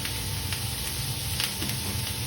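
Meat searing in a hot pan with a couple of garlic pieces and thyme, giving a steady, close, crackling sizzle that holds throughout with no talk.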